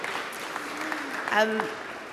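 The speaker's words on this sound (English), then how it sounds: "Give them another clap just to make sure they know I got it right." Audience clapping for winners at an archaeology awards ceremony, a moderate patter of applause running under a speaking voice and brief vocal exclamations.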